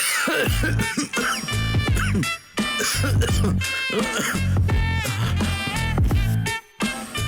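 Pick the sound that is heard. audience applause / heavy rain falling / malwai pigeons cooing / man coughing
man coughing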